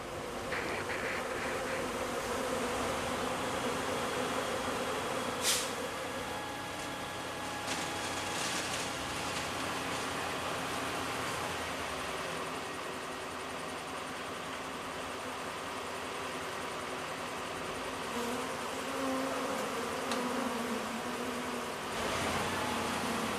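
Honeybee colony swarming, a dense continuous buzzing hum of many bees at moderate distance, steady in level with a few brief sharper sounds mixed in and no talk.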